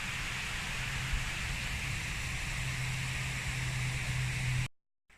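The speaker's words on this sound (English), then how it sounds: "Waterfalls." A waterfall in the snowy winter Lake District gives a steady, broad rushing roar at constant loudness, then cuts off abruptly near the end.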